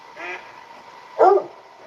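A dog gives a single sharp bark, loud and close, preceded by a fainter, softer vocal sound against a quiet background.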